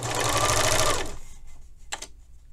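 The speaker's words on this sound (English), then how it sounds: "sometimes you have to sew for like a half an inch and then readjust it in half an inch and readjust it just to get around those curves" Sewing machine stitching a narrow hem around a curve, a loud steady whir lasting about a second before stopping, followed by quiet handling and a brief click.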